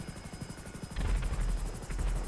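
A military attack helicopter in GTA 5 Online, the Hunter, its rotor thumping rapidly and steadily with a turbine whine, growing louder partway through, with no talking.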